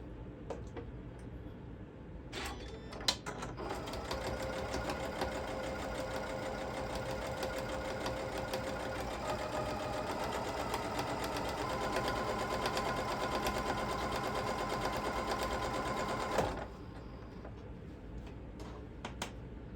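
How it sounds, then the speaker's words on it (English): A sewing machine runs steadily, topstitching green thread an eighth of an inch from the edge of a fabric pet sling pouch; an even mechanical whir holds for about fourteen seconds, then stops, leaving quiet room tone. "I'm going to top stitch with the green thread"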